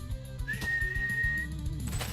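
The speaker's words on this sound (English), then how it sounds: "Riley put 2 fingers in his mouth and whistled." A two-finger whistle, a single steady high tone held for about a second over a low, rhythmic background, with no speech.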